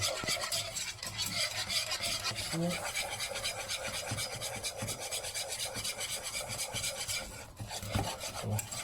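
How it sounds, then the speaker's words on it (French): Steady scraping and rubbing of a spoon stirring a galette des rois mixture in a pot on the stove, a continuous close rasping with faint sizzle underneath and no talking. "Faut tout mélanger tout le temps."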